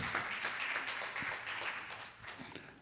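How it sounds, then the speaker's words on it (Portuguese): A church congregation gives a round of applause to the Lord, a moderately faint, steady wash of many hands clapping with a few distinct slaps, heard at a distance. "Uma salva de palmas ao Senhor."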